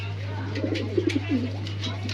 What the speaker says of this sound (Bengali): এখানে দেখতে পাচ্ছেন একজোড়া রাজগোল্লা কবুতর